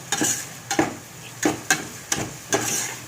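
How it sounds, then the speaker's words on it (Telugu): Masala spices frying in a pan, with a low sizzle beneath several sharp stirring clinks and scrapes that come at uneven intervals, close and fairly loud, with no voices. "కొంచెం వేగనివ్వాలండి. వేగితే మంచి స్మెల్ వస్తుందండి."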